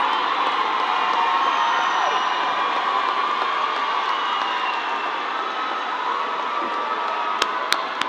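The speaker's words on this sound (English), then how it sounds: "Graduates, please turn to the audience and receive your applause" A graduation audience at a vocational-technical high school ceremony applauds and cheers for graduates, a broad sustained wash of crowd noise and clapping from a hall, with a few sharp knocks near the end.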